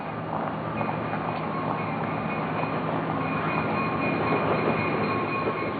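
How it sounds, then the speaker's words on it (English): A Mugunghwa second-class express train in South Korea rumbles steadily through a station, its wheels and carriages making a continuous broad roar with faint high squeals, no voices. "What arrived was a Mugunghwa, a second-class express train"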